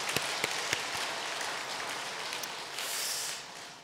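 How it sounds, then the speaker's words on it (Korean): Congregation claps in a church sanctuary after an infant baptism during Sunday worship, a soft, diffuse patter of many hands with a few sharper isolated claps near the start, fairly distant and even. "박수하겠습니다"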